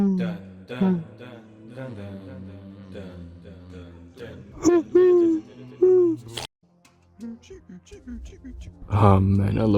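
A voice imitating owl hoots for a Terraria game sound pack, a series of close, playful hooting calls with wavering, swooping pitch, some short and some drawn out, separated by brief pauses.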